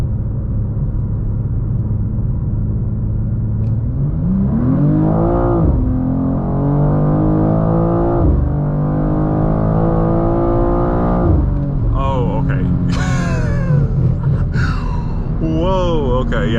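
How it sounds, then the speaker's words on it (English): A 2024 BMW M2 is floored from inside the cabin, its engine note climbing in rising sweeps through gear changes under a steady road rumble, with people talking and exclaiming over it. "Let's try just flooring it."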